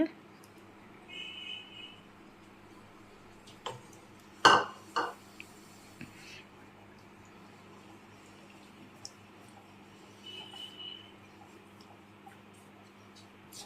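A spoon scraping and clinking against a pot while a mixture is stirred, heard as sparse, faint metallic taps with one sharper clatter near the middle and quiet gaps between.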